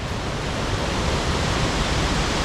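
A powerful 38-foot waterfall in the Six Mile Creek gorge roars nearby, a loud, steady, broadband rush of falling water with no other sounds.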